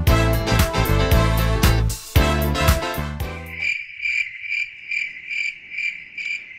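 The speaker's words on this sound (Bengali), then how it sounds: "গ্রাম মানেই ঝিঝি পোকার ডাক" Crickets chirp at night in Rajdharpur village near Rajbari, Bangladesh. Their close, high chirps come in regular pulsing bursts once music at the start fades out.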